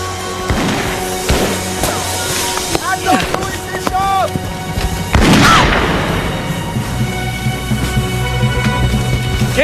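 Gunfire in a period naval battle scene: loud booming shots and cracks amid shouting voices, with a big blast midway and continuous rumbling din throughout.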